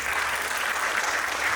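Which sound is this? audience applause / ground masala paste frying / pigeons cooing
audience applause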